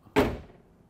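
A car door on a BMW E46 330Cd Cabriolet, a single sharp latch clunk heard close, decaying quickly into quiet.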